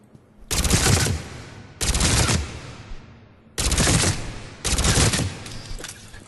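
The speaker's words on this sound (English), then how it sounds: "good fire rate, though it is burst fire, so I feel like that fire rate is kind of misleading" Burst fire from the Shuriken SMG in the video game Mass Effect 3, four loud, close bursts of rapid shots, each about a second long, separated by short pauses.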